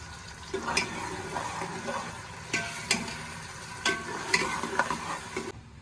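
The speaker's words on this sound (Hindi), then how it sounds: "तो इसे थोड़ी देर फ्राई करेंगे ताकि ये लाइट ब्राउन हो जाए प्याज।" Steady sizzling of onions frying in a pan until light brown, with occasional stirring scrapes and clinks, close by and moderately quiet.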